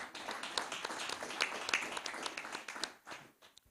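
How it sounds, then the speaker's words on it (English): A round of applause at a chaplain's introduction during an entrepreneurship week event, a dense wash of clapping hands that holds steady for several seconds before thinning out near the end. "Give him a wonderful round of applause."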